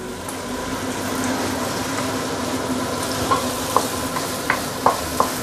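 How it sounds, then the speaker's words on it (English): Curry paste fries in oil for a curry fish head while being stirred, giving a continuous close sizzle under repeated scraping and knocking strokes of a utensil against the pan that get sharper toward the end, with no voices. "you want to keep on stirring because you don't want your curry paste to get burnt"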